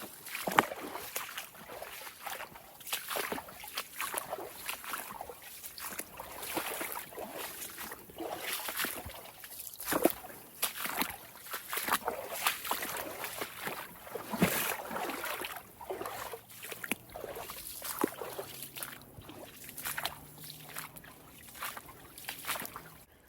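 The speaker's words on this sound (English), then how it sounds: "Also got some good running water right here." Continuous rushing and trickling water with steady broadband hiss, fairly close, with faint low rumbles underneath and no talking.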